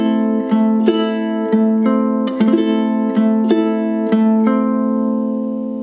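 Ukulele fingerpicking a steady pattern for a song at full tempo, with bright plucked notes in an even rhythm, close and alone with no voices.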